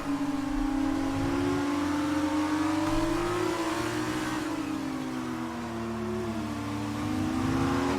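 Formula 2 race cars in the F1 2019 game, British GP sprint race, roaring continuously at high revs with shifting engine pitch as several cars run close together in slipstream, loud and steady throughout.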